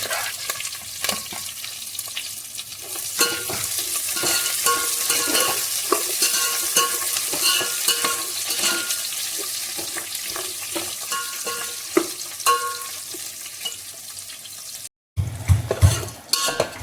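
Green chillies, cashews and onions frying in hot oil in a heavy pot for Telangana bagara rice, with a steady loud sizzle and frequent stirring scrapes, then a brief cut and clattering.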